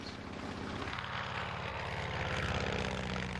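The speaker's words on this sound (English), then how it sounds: "The engine sounds smoother than at the beginning of the flight" A propeller airplane engine drones steadily in flight, a loud, continuous hum with a rhythmic throb and no voices.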